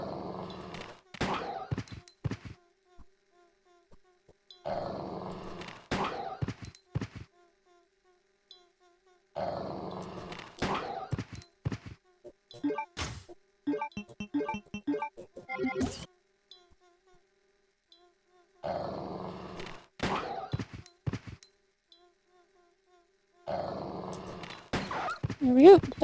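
Dogs in Resident Evil Code Veronica X growl and snarl in short, intermittent bursts amid game sounds, with a voice talking over parts of the sequence.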